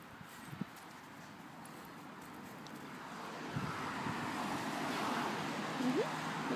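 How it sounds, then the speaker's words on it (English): Road traffic rumbles faintly in the distance, a low steady hiss of passing vehicles that swells slightly toward the end, with a few soft knocks nearby. "Come near traffic now."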